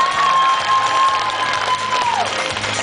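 Enthusiastic applause and cheering from a festival audience for the organizers of a children's arts festival in Irpin, a loud continuous wash of clapping with a sustained whistle-like tone running through it.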